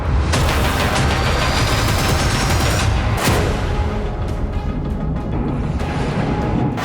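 Heavy explosions and rapid bursts of fire during a pre-dawn attack on the city of Saratov, loud and continuous with dense crackling salvos and a sharp blast partway through.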